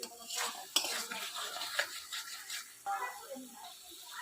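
Paneer and peas being sautéed in a pan: a spoon scrapes and clinks against the metal pan in irregular strokes over a light sizzle, close up, with no talk.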